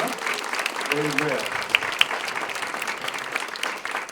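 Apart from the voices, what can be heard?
round of applause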